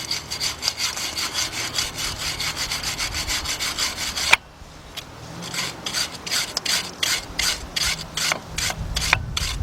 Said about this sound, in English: I have my wire brush. What I'm gonna be doing is cleaning the bottom surface and the top surface